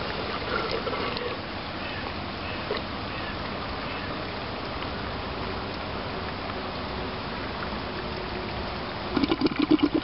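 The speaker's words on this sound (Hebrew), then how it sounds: "ברגע שאנחנו שומעים את הבועות אוויר האלה, זה אומר שמים נכנסו אל תוך הסיפון" Water flows steadily through a bell siphon in a planter, a continuous gushing wash with a burst of gurgling air bubbles near the end, close and alone.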